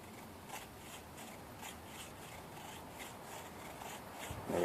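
A serrated knife carves fine curls into a wooden featherstick, giving repeated rhythmic rasping strokes, close and quiet, each scrape brief and evenly spaced.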